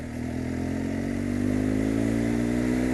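A liquid-cooled BMW R 1200 GS Adventure motorcycle engine runs loud and close, a continuous rough hum that rises slightly in pitch as it revs.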